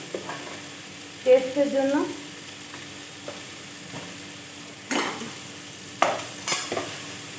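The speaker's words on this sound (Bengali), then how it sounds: "আমি এরপরে লবণ দিয়ে ভালোভাবে ভেজে নেব।" Vegetables including potato and radish being stir-fried in a pan with salt and sugar, giving soft scraping and stirring clatter with bursts of sizzle at intervals, close and moderately quiet, with a brief spoken remark.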